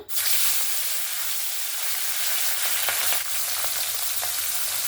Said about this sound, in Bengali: তেলটা সুন্দরভাবে গরম হয়ে গেছে, ধোঁয়া উঠতে শুরু করেছে। এবার মাছগুলো দিয়ে দেব।